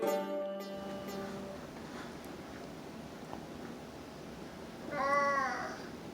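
A cat meows twice, a long drawn-out call at the start and a shorter, brighter one near the end, both clear over a quiet room background.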